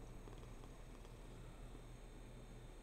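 A cat purring in Hades II: a soft, continuous low rumbling purr at steady rhythm, faint and close, with no talking.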